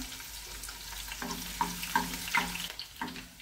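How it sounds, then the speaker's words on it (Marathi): Crushed garlic cloves sizzling in hot oil in a pan, a steady close fry with a few stirring clatters and sharper crackles partway through. "तेल आपलं तापलेलं आहे। आपण 4-5 पाकळ्या लसणाच्या घेतलेल्या आहेत ठेचून।"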